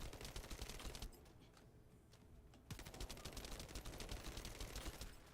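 Rapid automatic weapon fire in the looter-shooter game The First Descendant, continuous bursts of quick shots with a short lull in the middle, fairly close but moderately quiet.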